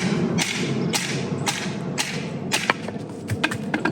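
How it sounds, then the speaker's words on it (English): Dull, evenly spaced thuds from batoning easily split, non-knotty wood with a Gear Aid Balta camp hatchet, about seven knocks at close range, quickening slightly toward the end with a few lighter taps. "the easiest way to split wood with a hatchet, in my opinion, is to baton it"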